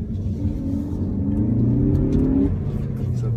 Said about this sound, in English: The 2-liter 4-cylinder EcoBoost engine sounds so much better than